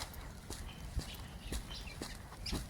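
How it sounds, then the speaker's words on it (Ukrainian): Songbirds chirp on a sunny, frosty October morning in Saltivka, Kharkiv. The scattered, fairly faint calls sit over a steady outdoor background with occasional soft thuds. "Чуйте, як, як пташки співають"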